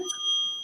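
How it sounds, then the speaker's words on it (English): A small desk bell, like a bicycle bell, struck once by a host: a single bright metallic ring that lingers briefly. "where's my bell?"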